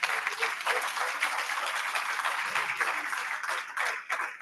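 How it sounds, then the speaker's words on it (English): A crowd at a membership meeting gives sustained applause, a steady rush of many hands clapping at moderate distance, with a brief dip just before the end. "Big round of applause for those guys"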